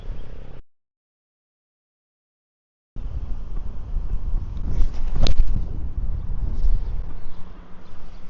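Steady rushing headwind buffets the microphone on a golf course in Bali, broken by a short dropout, with a gust swelling louder midway before settling back to a constant roar.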